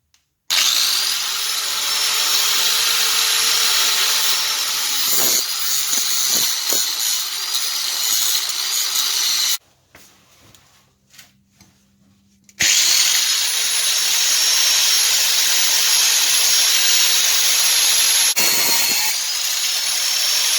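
A cut-off wheel grinds through a rusted leaf spring bolt on an MGB Roadster, a loud, close, sustained high whine in two long bursts separated by a few seconds of quiet.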